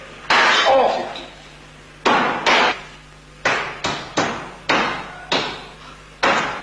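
A hammer strikes a hard object about eight times in an uneven rhythm, each blow a sharp, loud, close impact with a short ringing decay.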